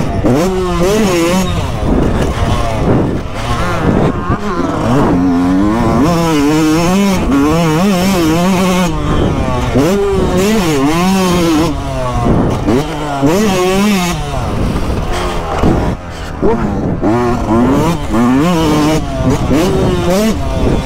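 A 125cc motocross bike roaring around a track with big jumps, its engine revving up and down in rising and falling waves throughout, loud and close, with someone speaking French over it.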